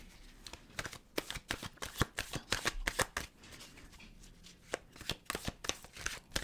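Tarot cards are shuffled by hand in a steady run of crisp riffling slaps and flutters, close and clear, with no talk over them.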